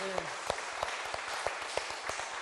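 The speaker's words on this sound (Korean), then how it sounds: "우리 하나님께 영광의 박수 한번 올리십시오." Church congregation clapping in praise to God during a Sunday afternoon service, a dense steady wash of applause with a few sharper rhythmic claps standing out, fairly loud and continuous through the moment.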